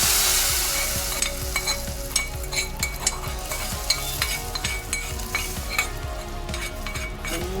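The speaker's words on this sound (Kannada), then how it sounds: "ಒಗ್ಗರಣೆನೂ ಸೇರಿಸ್ಕೊತಾ ಇದ್ದೀನಿ." Tempering is poured into hot sambar, raising a loud bright sizzle that slowly fades as a spoon stirs in steady, repeated scrapes and light clinks against the pot.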